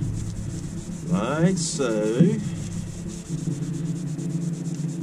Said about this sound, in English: Okay, we'll scrub the inside of the bottle